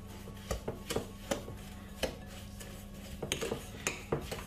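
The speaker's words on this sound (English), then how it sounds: "cream the butter and the sugar together" A wooden spoon creams butter and sugar in a bowl, making repeated knocking and scraping strokes against the bowl at an irregular rhythm. The strokes are close and clear, with no talking.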